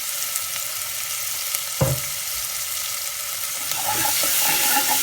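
Chopped onion dropped into hot oil for Gujarati moong dal, a steady bright sizzle with a soft thud as it lands and the frying growing louder toward the end.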